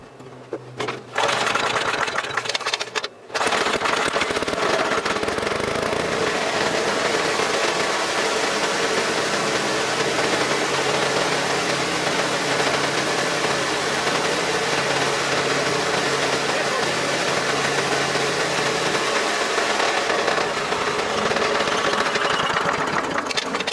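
A Craftsman wood chipper, started after sitting for years, cranks briefly and then catches into a loud, steady, rattly engine roar that runs continuously close by, with no talk.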